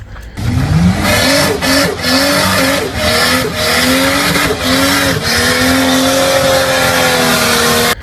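A turbocharged 4.0-litre engine in a 1995 Ford EF Fairmont revs up close, with sharp bursts of hissing, fluttering air from the wastegate venting to atmosphere between the rising and falling engine notes.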